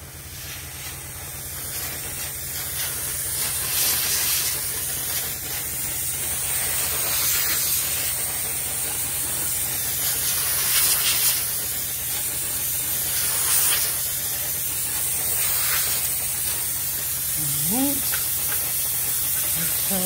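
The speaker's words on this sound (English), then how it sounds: "I have my little steamer right here" A small handheld garment steamer hisses steadily as it steams yarn hung on a coat hanger, a continuous airy spray sound close to the microphone with brief shifts in intensity.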